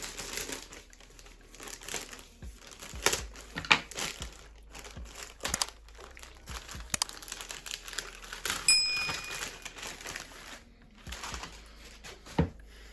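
A large plastic parcel bag being torn open, with loud crinkling and crackling in bursts and sharp rustles that come and go over several seconds, close up and with no voices.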